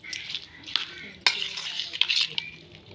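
Mango pickle is stirred by hand, a wet, squelching mix broken by a few sharp clicks of a spoon against the container, close and moderately loud.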